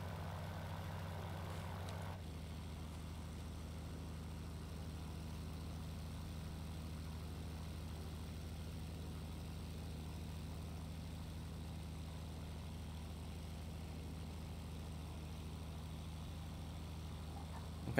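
A constant low drone of a 1919 Junkers F.13 propeller airplane engine in flight over a city continues steadily and evenly throughout, fairly quiet, with no voices.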